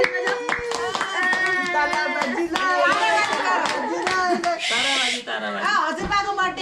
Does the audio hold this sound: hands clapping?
yes